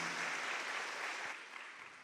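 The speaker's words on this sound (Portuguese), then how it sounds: "Uma salva de palmas para vocês" A church audience applauds continuously, a dense, steady wash of clapping that fades slightly toward the end, heard alone without talk.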